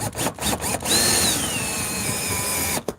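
A power drill whines loudly while assembling office furniture, with a steady sustained run from about one second to near the end, preceded by a few short trigger bursts.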